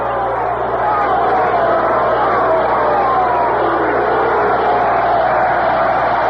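A large stadium crowd roars continuously at the final Washington Senators game against the New York Yankees in 1971, a loud, unbroken wash of cheering and noise with no clear breaks.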